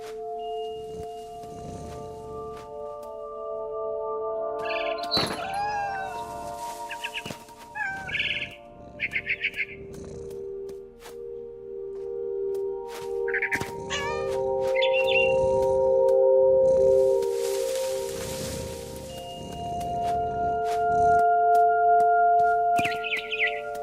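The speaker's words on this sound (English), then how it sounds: "I tried to be quiet, but the bird was really scared." A frightened barn swallow in the video game What Remains of Edith Finch gives repeated short, high chirps and tweets in scattered bursts over a steady tonal game soundscape, fairly close and clear.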